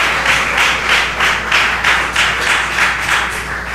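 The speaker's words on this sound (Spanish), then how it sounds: "Bríndale ese aplauso más grande al Todopoderoso hoy." A church congregation applauding during a sermon, a loud, sustained wave of many hands clapping with a loosely pulsing rhythm, close and full.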